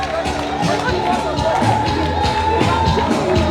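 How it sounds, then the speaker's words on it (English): A crowd in a hall at an awards-night speaking event claps and shouts with cheering and babble, loud and continuous throughout. "The way some people are shouting, they remind me of people in church."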